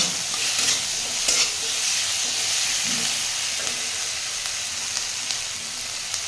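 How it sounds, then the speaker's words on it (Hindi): Small chopped bell peppers stir-fry in a hot pan, giving a steady close sizzle with the scrape and clatter of stirring throughout, no voices. "इसके साथ ही मैं ये थोड़े से शिमला मिर्च जो छोटे छोटे टुकड़ों में कटे हुए हैं इनको डालूंगी।"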